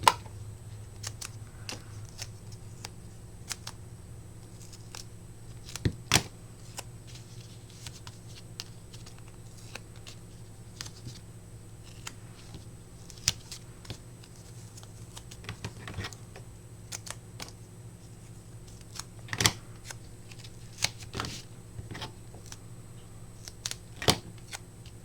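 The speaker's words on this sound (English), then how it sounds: "These poor scissors have so much sticky on them from cutting that foam tape." Scissors snip through sticky foam tape, giving sparse, irregular sharp clicks and snips over a low steady background hum, close and fairly quiet.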